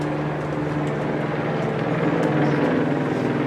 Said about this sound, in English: we've got the APN helicopter now flying over